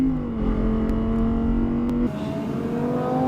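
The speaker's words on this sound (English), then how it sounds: "Whoa, he's really picking up some speed." A Lamborghini Huracan accelerates off-road, its engine drone loud and steady and rising in pitch as it gathers speed, then dropping in tone as the car moves off.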